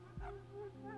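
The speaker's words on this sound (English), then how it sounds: "the distinctive high-pitched sound of a dog's barking made her pause." A small, high-pitched dog yips once, quickly and faintly, over a low steady hum.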